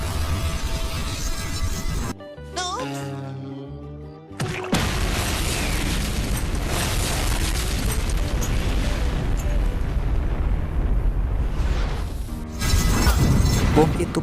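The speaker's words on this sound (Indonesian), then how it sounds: "Bom itu pun meledak" A loud cinematic bomb explosion with crashing, shattering debris from the action film Flash Point, set among dramatic soundtrack music and brief dialogue, with sharp cuts between scenes.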